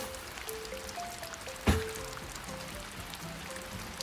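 Steady soft patter of rain, a continuous diffuse hiss with faint drips, broken once by a short sharp knock midway.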